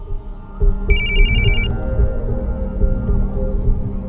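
Telephone bell rings in a short electronic burst over a low background hum, with no talk during the ring.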